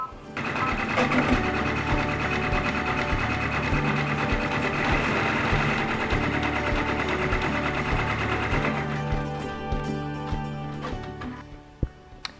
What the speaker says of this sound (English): now I'm going to let the machine stitch the final stitch, and that's a blanket stitch